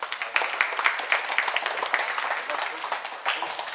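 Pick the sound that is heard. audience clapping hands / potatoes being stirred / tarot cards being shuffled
audience clapping hands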